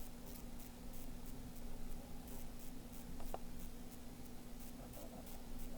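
Pen scratching steadily across paper while a line is drawn on a calculus worksheet, soft and continuous over a constant low hum of room noise.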